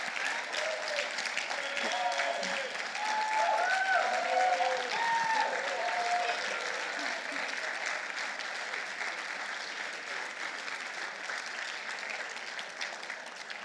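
Sustained crowd applause for a college basketball team's national championship celebration, dense and steady throughout, with brief cheers and voices rising early before the clapping slowly thins.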